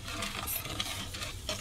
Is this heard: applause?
no